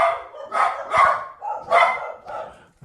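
Dogs bark in a close, loud burst of five or six sharp woofs with short gaps between them.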